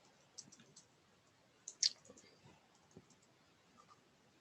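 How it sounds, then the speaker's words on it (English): Several light keyboard clicks from typing a room label into a floor-plan presentation tool, a sparse, quiet patter with a sharper cluster of taps near the middle against a faint background. "I certainly could type up here and say living room"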